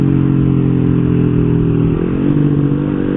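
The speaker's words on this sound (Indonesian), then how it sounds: "Dan Untuk suara mesin itu halus kalau pakai noken BRT ini" Honda Revo standard motorcycle engine fitted with an aftermarket BRT Type S1 camshaft runs steadily at close range, a dense continuous drone that rises slightly in pitch near the end.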